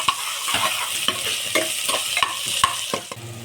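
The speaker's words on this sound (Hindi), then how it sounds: "हल्का सा हम इसको अपने प्याज को जो है ब्राउन करेंगे" Onions frying in a pressure cooker pan toward light brown, a loud continuous sizzle with regular spatula scrapes and clinks roughly every half second, close up and with no voices.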